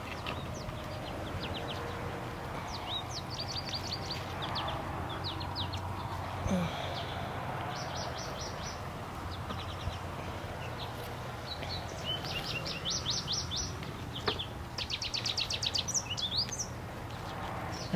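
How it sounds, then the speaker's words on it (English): Birds sing and chirp in short repeated bursts on a morning in a flower garden, faint and somewhat distant over a steady outdoor background hum, with small insect-like buzzes here and there. "I don't know if you can hear the birds"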